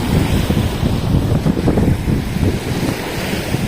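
Steady wind buffets the microphone outdoors by the sea, a constant rushing roar with surf-like noise and no voices.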